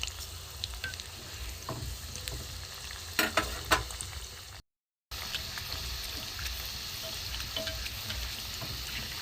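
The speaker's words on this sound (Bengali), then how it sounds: "একটু ভালো করে ভাজা হোক" Carrot and shrimp pitha made with rice flour fries in a pan, giving a steady close sizzle with a few sharper crackles and stirring scrapes partway through.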